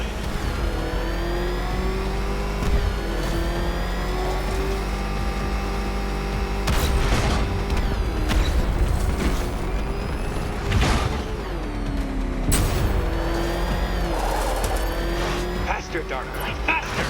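A ramshackle car motor races in Batman Arkham Knight, its engine droning and revving in shifting pitches with sharp crashes and impacts scattered through, while a voice talks over it.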